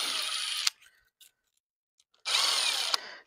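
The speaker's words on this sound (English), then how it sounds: "Now we take the clamps, an 8mm. We loosen the clamps all the way up" A power tool loosening the clamps on a turbo kit for a Catalyst 600 with an 8mm bit whirs in two close, loud bursts separated by a pause of near silence with faint clicks.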